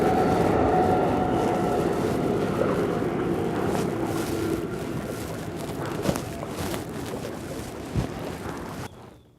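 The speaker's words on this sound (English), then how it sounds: "And that sound is the Amtrak train." An Amtrak train rumbles past continuously at a distance, a broad steady roar heard from a saltwater kayak on the water, with a few faint knocks and splashes nearby.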